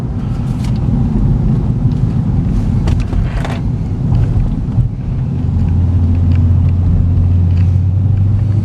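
A 2009 Cadillac CTS-V, a repairable salvage car with its V8 engine pulling hard on a test drive, gives a loud, steady low rumble with road and wind noise throughout, settling into a droning hum near the end.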